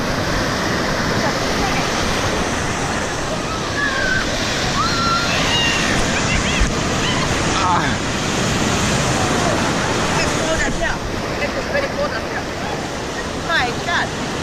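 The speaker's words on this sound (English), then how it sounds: "The waves have been crazy." Ocean waves crash continuously at Myrtle Beach, a loud steady roar of surf filling the whole stretch without pause.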